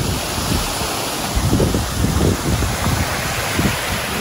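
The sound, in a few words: waterfall at Mountain Falls RV resort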